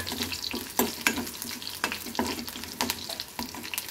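Garlic and chili frying in a pan for a Maharashtrian kadhi tempering, a close, continuous sizzle punctuated by sharp spatters and spoon scrapes at irregular intervals, with no voices.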